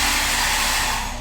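A hair dryer blower in a hotel bathroom runs steadily at close range, a loud continuous whoosh that holds level throughout with no talk over it.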